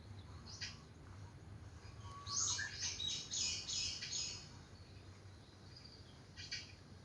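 Harsh, chattering magpie calls come in a cluster of rapid squawks as the magpie attacks a large snake, moderately distant, over a low outdoor hum with insects faintly audible.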